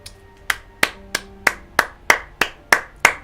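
Nine sharp hand claps, fairly evenly spaced about a third of a second apart, crisp and close with nothing else behind them.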